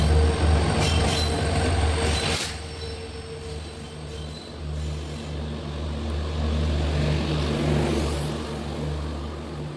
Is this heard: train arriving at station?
yes